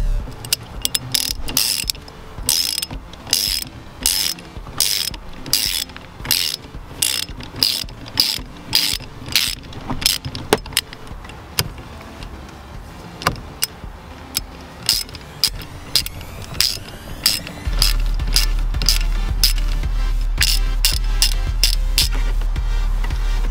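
A ratchet wrench rapidly clicks close up while loosening a 10mm nut beneath the shift knob of a Dodge Dart, in long runs of steady ratcheting bursts with brief pauses between strokes.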